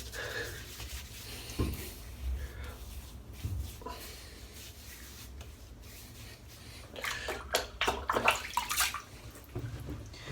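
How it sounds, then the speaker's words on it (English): Fingers dipping and splashing in water while applying a pre-shave for a head shave, with soft close splashes and drips, a few louder bursts toward the end. "Just dipping my fingers in the water as I put it on."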